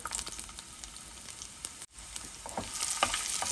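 Garlic and green chili frying in a spoonful of hot oil with cumin seeds, a steady crackling sizzle throughout with a brief dip partway, moderately quiet and close, no voices.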